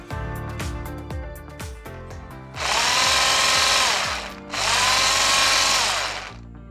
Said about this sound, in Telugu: సో నా దగ్గర విప్పింగ్ మెషిన్ ఉంది, నేను డైరెక్ట్గా దీంతో విప్ చేసేసుకుంటాను.